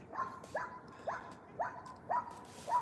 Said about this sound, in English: Can you hear that dog barking?